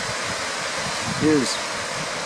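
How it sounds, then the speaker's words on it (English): Clear Creek Falls, a waterfall east of Mount Rainier in Washington, gives off a steady, even rush of falling water that fills the whole stretch, with a person speaking briefly over it. "This is Clear Creek Falls, going east from Mount Rainier."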